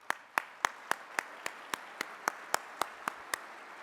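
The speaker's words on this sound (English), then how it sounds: "Let's give him a big round of applause here." At a keynote address, about a dozen evenly spaced hand claps sound faintly from across a hall, a steady single beat rather than a dense ovation.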